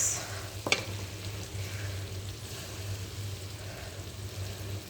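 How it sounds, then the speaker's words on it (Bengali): Tomato sauce hits a pan of fried spice paste, giving a soft, steady sizzle with a sharp clatter early on, fairly quiet and close, and no voice over it. "এখন এই পর্যায়ে আমি দিয়ে দিব টমেটোর সস।"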